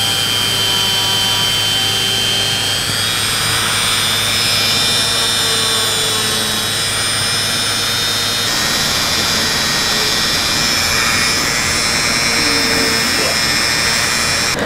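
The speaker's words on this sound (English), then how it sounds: "I'm just gonna run the Dremel right down the side just to smooth it out a little bit" A Dremel rotary tool runs along the edge of a leather belt piece to smooth it, giving a loud, continuous high-pitched whine and grinding buzz that shifts in pitch partway through, close by and with no talking.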